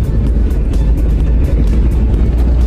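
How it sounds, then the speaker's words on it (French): Peugeot 205 fitted with twelve wheels, rattling and vibrating loudly from the rear, a dense low rumble with steady shaking, close and continuous. "je sais pas ce qui fait ce bruit, mais c'est carrément une 205 vibromasseur là"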